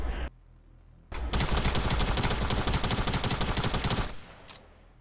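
Rapid automatic gunfire in the Fortnite video game, a dense sustained burst of about three seconds following two short bursts, loud and close with no talk over it.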